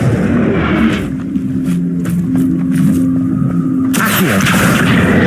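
In a Harry Potter video game, a loud booming explosion from the Bombarda spell bursts out with a rumbling tail, then a second sharp blast follows near the end.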